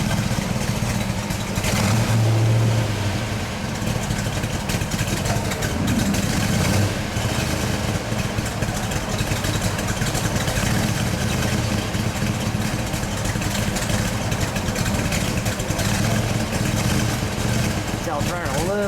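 A 1970 Ford Boss Mustang with a 429 engine idles steadily and close by, a deep continuous low rumble with a slightly uneven lope, running a little rich, with a faint voice briefly audible.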